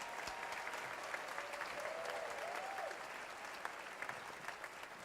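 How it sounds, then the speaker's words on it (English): Commencement audience at the University of the Virgin Islands St. Thomas campus claps steadily and at length, a dense, even wash of applause with a faint whistle partway through. "please give Dr. Hall a round of applause."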